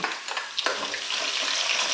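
Garlic and green chillies sautéing in a pan for Tamil variety rice, giving a steady close sizzle with a few light stirring scrapes and clinks near the start.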